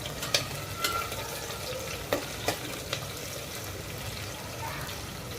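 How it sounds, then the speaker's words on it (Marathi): Onion frying in a pan for veg pulao, a soft steady sizzle with several sharp spatula taps and scrapes against the pan, close and fairly quiet. "कांदा आपल्याला छान तळून घ्यायचा आहे"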